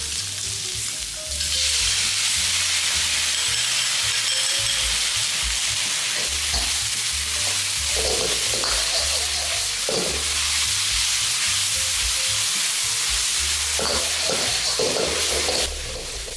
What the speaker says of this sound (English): Stir fry a few times